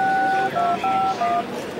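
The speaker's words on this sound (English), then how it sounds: "Dialing one of my phones here." Sequence of several short DTMF keypad beeps dialed on an Android-based DECT cordless phone with a capacitive touchscreen, clear and close, with faint background room noise.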